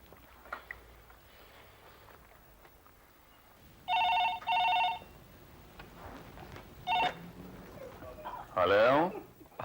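An outgoing landline call in a Hindi TV serial: two close, electronic ringing tones in a pair, then a shorter one, with faint room noise and a voice briefly heard.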